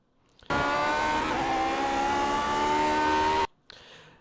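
A Lotus 49 Grand Prix car in iRacing screams high in the rev range for about three seconds, a loud, steady, close engine note rising slightly in pitch, then cutting off sharply.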